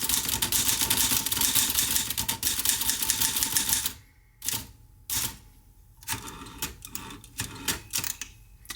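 Keys striking on an Olivetti Lettera 22 manual typewriter. Fast, steady clatter comes first, then slower, separated clacks and bursts, close up and alone.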